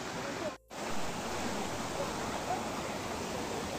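Flowing water at a bathing spot in Chakrata, a steady rushing hiss close by with a brief dropout near the start.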